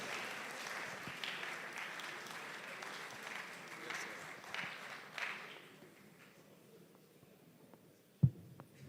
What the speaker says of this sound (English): Please, a bigger applause for our chairman as he closes us.